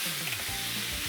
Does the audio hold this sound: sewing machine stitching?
no